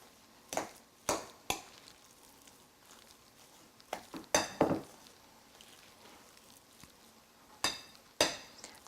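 A spoon works a pot of mashed potatoes with garlic and butter, giving close, intermittent clinks and soft scrapes in irregular bursts with quiet gaps between.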